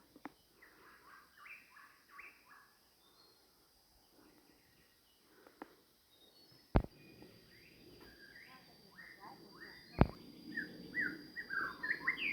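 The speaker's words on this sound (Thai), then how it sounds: "นี่ยินเสียงนกบ่" Birds chirping and calling in a forest on a hike, scattered faint tweets near and far with insects in the background and two sharp knocks.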